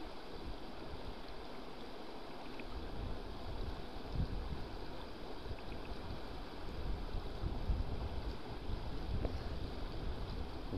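Wind blowing outdoors on a fishing trip in overcast weather, a steady broadband rush with low gusty rumble against the microphone, continuous and fairly loud throughout, no one speaking.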